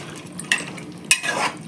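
A spoon scrapes and stirs through a pot of country chicken curry, a few short clattering strokes against the metal with a faint sizzle underneath, close and alone.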